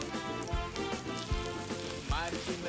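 Razor clams (khube) cook in a pan over a low flame, sizzling and frying steadily and close up, with occasional soft stirring or scraping knocks.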